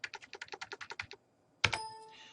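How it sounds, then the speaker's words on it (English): Quick typing on a computer keyboard while entering a map scale in GIS software: about a dozen rapid, evenly spaced key clicks, then a short pause and one sharper, ringing tap, close and clear with no talking. "I could manually type in a scale."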